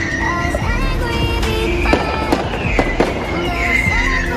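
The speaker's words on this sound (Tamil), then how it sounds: "இங்கே தீபாவளிக்கு வெடிலாம் போடுறாங்க கரெக்டான டைம்." Diwali firecrackers and fireworks bang and crackle repeatedly along a London street, sharp irregular pops of varying loudness over constant street noise.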